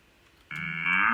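A single downloaded cow moo sample starts abruptly and holds as a loud, steady, close bellow, rising slightly in pitch toward the end.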